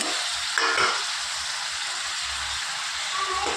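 Tomatoes go into a pan for a fish curry and fry with a constant bright sizzle, one short splattering burst near the start, close and steady with no talk.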